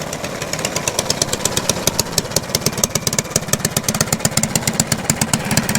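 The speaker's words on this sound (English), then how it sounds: "That bike is quick." Motorcycle engine running in a fast, steady rhythmic pulse, loud and close, with no talk over it.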